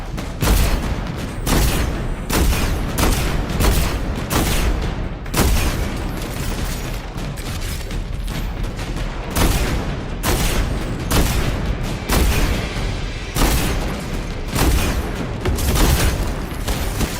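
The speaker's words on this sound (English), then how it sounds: "those grenades are like so annoying" Grenade blasts and heavy gunfire in Destiny 2 keep coming over and over, loud and close, with booming detonations in an irregular rhythm throughout.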